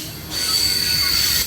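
A BNSF mixed freight manifest train rolls past at Carkeek Park in Seattle, its wheels squealing in a sustained, piercing high screech over a steady rolling rumble, close and loud.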